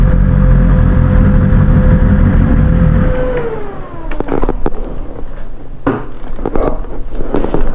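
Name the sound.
BMW S1000RR motorcycle engine and exhaust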